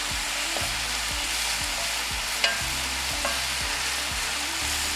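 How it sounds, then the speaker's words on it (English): Diced garlic sizzling steadily in a hot pan for lasagna, with a spoon stirring and scraping now and then, close and even with no voices. "I'm gonna go ahead and add in the garlic that we diced earlier into that. Give it a little bit of a stir."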